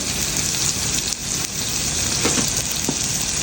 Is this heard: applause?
no